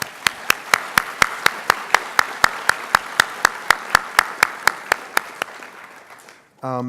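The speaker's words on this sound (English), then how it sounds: "Yes, they deserve your applause too." Audience applause at a faith festival event on sacred silence and science, a steady run of sharp, evenly spaced claps about three per second that fades out near the end as a voice begins.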